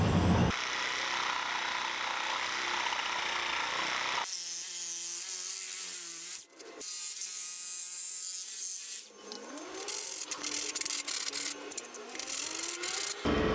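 Plastic is cut at an angle during a DIY camper build, with close, loud, continuous rasping and sawing strokes that stop briefly and restart with shifting pitch.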